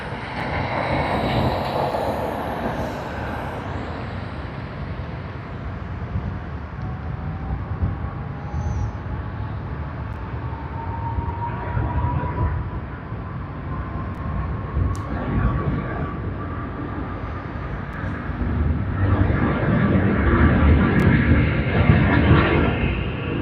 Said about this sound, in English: takeoff roll has begun